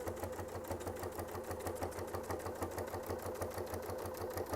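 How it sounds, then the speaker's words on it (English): A sewing machine runs a Westalee sampler template along a quilt border, its needle hammering in a fast, steady, even rhythm the whole time, close and unbroken. "instead of stopping at the pivot, we're going to sew all the way down"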